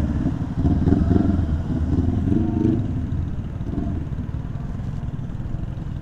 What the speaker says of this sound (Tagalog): Yun o, lalaki ng mga motor.